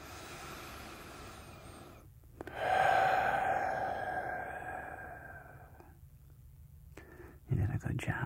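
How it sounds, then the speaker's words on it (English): Two people breathe in and out deeply together, a long audible inhale-exhale swelling and fading softly and close, with a quieter breath following near the end. "Let's take another nice deep breath together."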